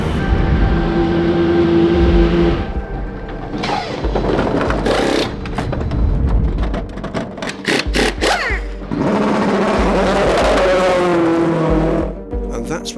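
Cool Racing's number 47 race car crosses the line at Le Castellet, its engine note rising and falling across several close passes, loud over a steady background drone while a commentator talks throughout.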